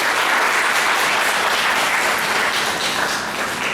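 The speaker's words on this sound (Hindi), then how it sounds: "जोरदार तालियों द्वारा हम अपने जजेस का स्वागत करते हैं" Loud, dense applause from an audience welcoming the judges at a college legal awareness program certificate function, steady and continuous with no talk over it.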